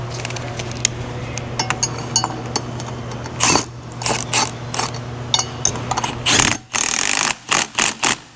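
A John Deere 1900/1910 air seeder meter gear is turned by hand, giving close ratcheting clicks and mechanical clatter in irregular bursts, with no talking.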